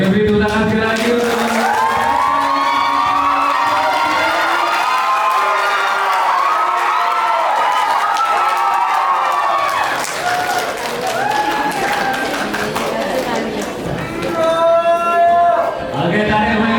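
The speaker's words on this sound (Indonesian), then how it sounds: "Oke, tadi beri tepuk tangan ya sekali lagi untuk malam ini." A theatre audience applauds and cheers after a stage adaptation performance, a sustained wash of clapping with whoops and shouts rising over it, loud and close for the whole stretch, easing slightly near the end before swelling again.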